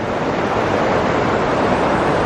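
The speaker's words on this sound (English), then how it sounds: "Here's a look at this waterfall from up on the upper level of this little park." Waterfall in a small town park in downtown Fenton, Michigan, heard from an upper level as a steady, dense rush of falling water that holds constant throughout.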